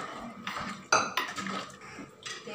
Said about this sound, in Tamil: வேக வச்ச மட்டனை வந்து போட்டுடலாம்.